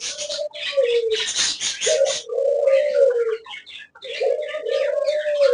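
A pet parrot calls close by in a run of drawn-out, warbling, slightly rasping notes that rise and fall, broken by short pauses and a few sharper bursts.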